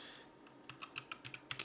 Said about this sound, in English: I'm typing really slow because I'm holding my mic in one hand